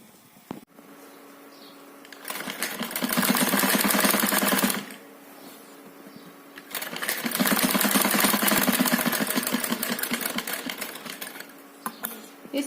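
A sewing machine stitches around the neckline of a choli in two loud, steady runs of rapid needle chatter, separated by a short quieter pause.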